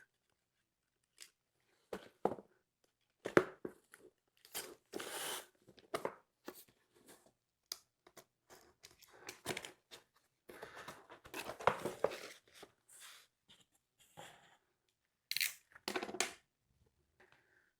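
A small boxed award package being opened and torn: scattered crinkles, rips and cardboard rustles in short irregular bursts, fairly quiet and close, with pauses between handling sounds and no talking.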